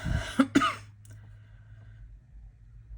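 Two sharp coughs from a lingering cough in quick succession, close and fairly loud, followed by quiet room tone.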